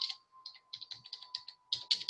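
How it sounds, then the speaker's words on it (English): Quick typing on a computer keyboard, a close run of light clicking keystrokes in uneven bursts, with a faint steady electronic hum underneath and no voices. "I'm typing that in right now"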